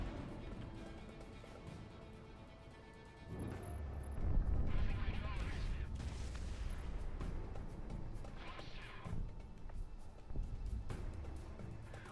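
A rumbling explosion in the flight combat video game Project Wingman, a heavy low boom swelling and lingering amid engine roar, with people talking over it.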